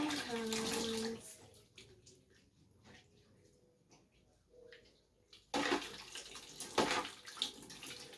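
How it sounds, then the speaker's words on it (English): Tap water runs as hands are washed in an outdoor kitchen setting: a faint trickle gives way to a louder, splashing gush near the end, with some quiet voices in the background. "Wash my hands."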